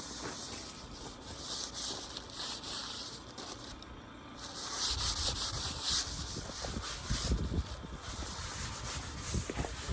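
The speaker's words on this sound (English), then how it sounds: "I'm going to rub it with brown paper, my final like sandpaper, and it just removes the last little bit" Brown paper rubbed like fine sandpaper over a stained white oak mantel, a soft swishing friction that grows louder and more rhythmic in the second half, close and without talk.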